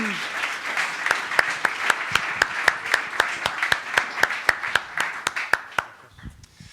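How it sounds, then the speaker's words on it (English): Steady, rhythmic audience clapping at an academic awards session, individual sharp claps standing out over a general wash of applause for about six seconds before tapering off. "Big applause to the academic team."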